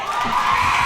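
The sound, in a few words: basketball crowd screaming at a player taking free throws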